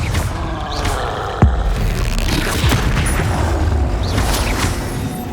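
In Hogwarts Legacy, a fiery Confringo blast spell lands with a sharp, loud boom, followed by a smaller second impact amid ongoing game effects and whooshes.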